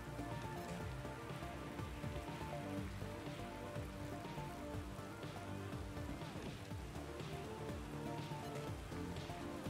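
Steady, heavy rain falls throughout a motorcycle racing game, MotoGP 19, as a dense, continuous wash of drops on surfaces with no pauses.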